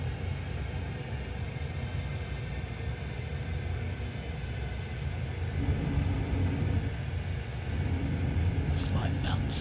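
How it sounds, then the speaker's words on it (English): A Pilatus PC6 aircraft in flight, its engine and airframe giving a constant low droning rumble through the whole stretch, with a faint higher tone rising briefly near the end. "Pilatus PC6."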